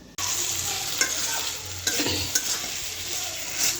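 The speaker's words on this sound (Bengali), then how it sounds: "আলুটা কষানো হয়ে গেছে" Potatoes sautéed in a pan for a Bengali home-cooked lunch give off a steady sizzle with clear scraping stirs of a spatula at intervals, close and fairly loud.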